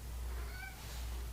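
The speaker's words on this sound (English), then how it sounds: "Our cat is back here." A house cat gives one short, faint meow at a distance over a steady low hum, with no speech.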